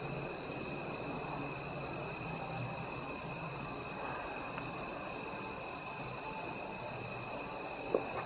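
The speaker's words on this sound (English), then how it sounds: "Listen to the crickets." Steady, continuous cricket chirping fills the scene, a high trilling drone with no talking, holding even throughout.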